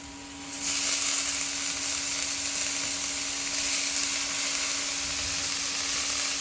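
Spinach dropped into a pan of frying spice mix while cooking palong dal: a sudden loud, steady hiss of sizzling that holds through the whole clip, with a faint tonal hum underneath.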